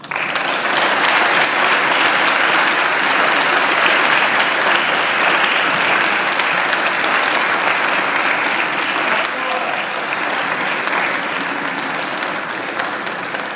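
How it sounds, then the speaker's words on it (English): At a graduation ceremony, graduates turn to applaud their families and friends, producing a loud, sustained round of clapping from a large crowd that holds steady for over thirteen seconds and tapers slightly at the close. "And now I invite you to give them a mighty round of applause."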